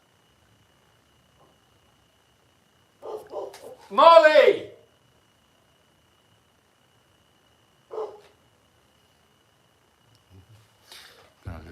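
A dog barks in the background during a relaxed sanctuary hangout, a short burst of yips and a bark followed by a single later bark, set among a person calling out and quiet pauses.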